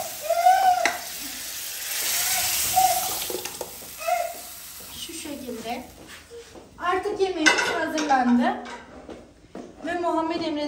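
Lentil stew is stirred in a pot, with a spoon scraping and clinking against the metal in uneven bursts and a soft simmering hiss underneath, while someone talks over the stirring.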